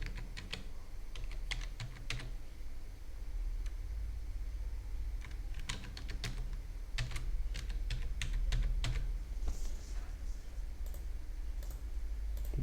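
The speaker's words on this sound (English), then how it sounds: "Firstly, we will enter the password." Fingers typing a password on a computer keyboard, quick bursts of crisp clicking keystrokes in irregular clusters with short pauses, close and clear over a low steady background hum.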